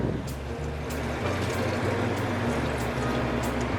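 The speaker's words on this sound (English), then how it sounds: "add the water, which is also partially vegetable broth" Water and vegetable broth poured into an Instant Pot, making a loud, continuous splashing gush close by with a low rumbling undertone throughout.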